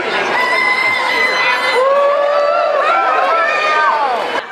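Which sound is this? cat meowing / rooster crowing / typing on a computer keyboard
rooster crowing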